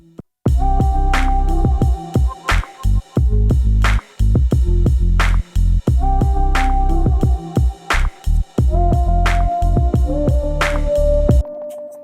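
An electronic music track with punchy drums and sustained synth chords that duck and swell rhythmically around each kick, giving a pumping, bouncing feel.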